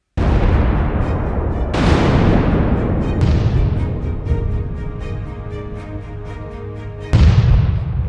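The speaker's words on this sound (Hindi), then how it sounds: "एक जोरदार विस्फोट जिसकी शॉक वेव ने पूरे बेरूत को हिलाकर रख दिया।" Several loud, booming explosions strike in succession, each one followed by a long rumbling decay that fills the space between blasts, from the Beirut explosion.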